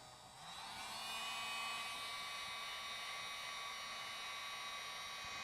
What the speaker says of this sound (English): I'm going to use a hair dryer or a hot air gun and give it a little blast of hot air.